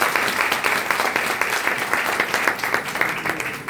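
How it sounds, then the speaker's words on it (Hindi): Sustained audience applause fills a devotional gathering of the Nirakari Jagriti Mission in Kanpur, welcoming two mission members, as a loud, close, continuous stretch of many hands clapping with no speech over it. "तो सब तालियों के साथ इनका एक बार स्वागत है।"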